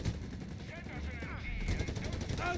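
Rapid machine-gun and rifle bursts from the World War II strategy game Company of Heroes 3 rake a rifle squad, rattling in quick repeated volleys beneath a commentator's voice.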